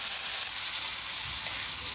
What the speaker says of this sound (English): I'll keep stir frying this for another 2 to 3 minutes